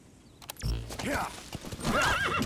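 In the Metal Gear Solid V video game, a horse whinnies loudly with a shrill, wavering call while its hooves clip-clop on the ground. A low game voice and ambient sound run beneath.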